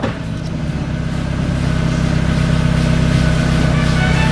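A just-repaired car engine idles steadily and loud, its low rumble building slightly as it runs continuously close by, with no talking over it.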